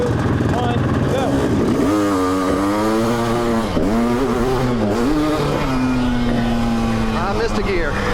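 A powerful electric dirt bike launches in a race start, its loud, close motor tone sweeping upward in repeated rising whines and pitch changes throughout, with other engine noise mixed underneath.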